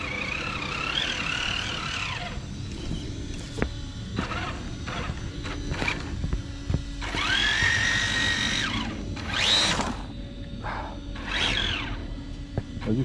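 A Traxxas TRX4 RC truck grinds along in first gear in a garden, its small motor whining and rising in pitch in bursts, with a harsh, unpleasant drivetrain noise nearby.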